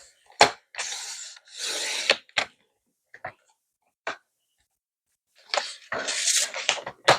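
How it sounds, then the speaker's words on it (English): Scissors or a paper trimmer cut half an inch off the edge of a sheet of scrapbook paper. Several short swishes and snips are close by and crisp, separated by gaps of quiet, with no talking. "I'm going to cut 1/2 of an inch off of the left side"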